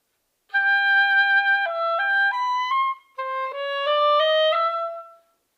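An oboe plays a short etude phrase with clear stepped notes, the air stopped for a split-second lift in the middle without a breath, then the line continues and fades.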